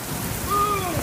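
Heavy rain pours steadily during a severe storm in Jena, Louisiana, heard from inside a Walmart entrance as a dense, continuous wash of noise, with a faint tonal whine rising briefly in the middle.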